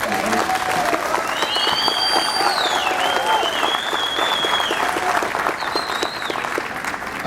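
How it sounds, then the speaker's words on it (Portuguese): Steady applause from a large audience at a public security hearing in Rio Grande do Sul, loud and dense throughout, with faint cheers and whistles rising over the clapping. "por favor, uma salva de palmas"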